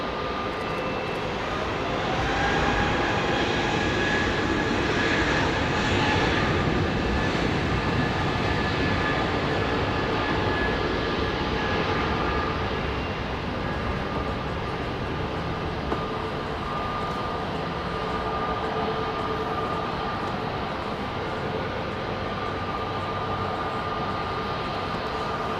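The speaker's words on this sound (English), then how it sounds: "I hear a 777 start." Jet engine noise from a Boeing 777 spooling up at London Heathrow Airport, a steady broadband roar with rising whine tones that holds loud and continuous throughout, with no voices over it.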